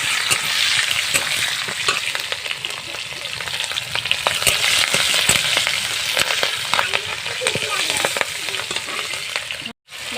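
Whole cumin seeds and chilies sizzle in hot oil in a pan while khichuri with winter vegetables is being made. A dense, continuous frying hiss is broken by stirring scrapes and a brief dropout near the end.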